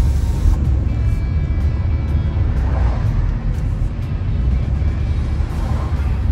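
Passing road traffic, including a jeep, rushes by as a steady loud rumble and whoosh through the open window of a 2022 Volkswagen T-Cross, with no talk.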